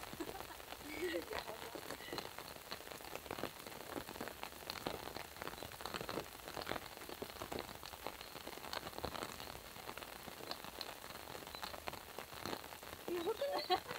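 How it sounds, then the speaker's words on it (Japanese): Heavy rain pours steadily onto an outdoor golf course green, a dense, continuous patter and hiss of drops hitting the ground that lasts the whole time at an even, loud level. "この雨はエグいです。"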